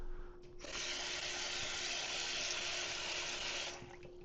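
Water runs from a tap into a cooking pot, a steady close hissing stream that starts abruptly, holds for about three seconds, then cuts off.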